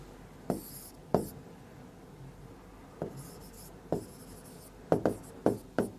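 Chalk strokes on a classroom board as a teacher writes notes, sounding as sharp scratchy taps in short bursts, with a run of quick strokes near the end and quiet room tone between.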